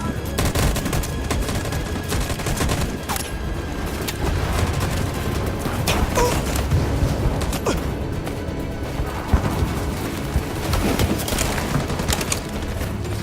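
Sustained gunfire volley in the video game Detroit: Become Human, dense overlapping shots and mechanical clatter running loud and steady throughout with no pause.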